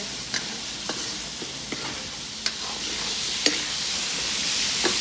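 Potatoes fry steadily in a pan for bhurji, a continuous close sizzle with occasional light ticks and spatula taps against the pan, no voices.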